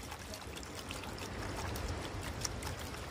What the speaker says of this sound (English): Let's fill them with salt water.